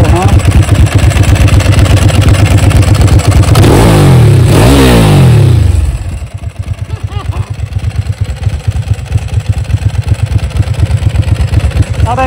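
Ducati 999S motorcycle engine revving hard, a loud rising and falling blip of the throttle that then settles into a steady, throbbing idle, close up.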